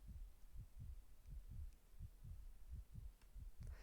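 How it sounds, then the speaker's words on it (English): A heartbeat sound effect in a video game thumps low and steady in regular double beats, about two per second, quiet and muffled with no talk over it. "Is that why we're hearing the heartbeat?"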